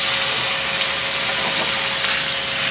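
Water hits a hot pan of frying breaded pork and turns to a loud, steady steaming hiss that holds evenly throughout, close and unbroken, with no talk.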